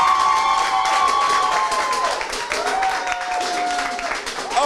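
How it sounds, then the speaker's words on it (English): An audience gives a round of applause, with continuous clapping and some cheering, mixed with a sustained tonal sound like music or a voice running over it. "I think you should do a big round of applause for yourselves."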